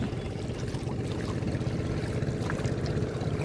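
A boat moves on the water near an island, with a low, steady engine rumble mixed with soft water wash and no voices.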